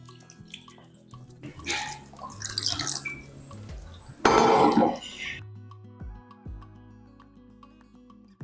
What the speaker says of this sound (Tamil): இதில் அரைச்ச தண்ணி இருக்கும் இல்லையா அதையும் ஊற்றிடலாம்